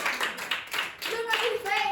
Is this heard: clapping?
yes